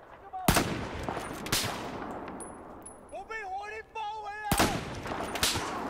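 Gunfire exchange in Battlefield 4 multiplayer with an M40A5 sniper rifle, two sharp shots early and another loud shot later, separated by a ringing, warbling game tone, no talking.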